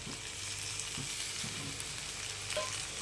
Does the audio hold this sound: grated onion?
yes